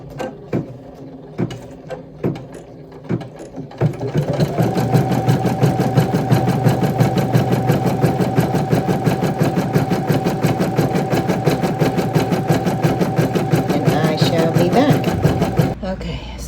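Embroidery machine stitching an in-the-hoop crochet hook roll: a few slow separate stitches, then a steady loud rapid whirring chatter of the needle that runs for many seconds before stopping, with talk over parts of it.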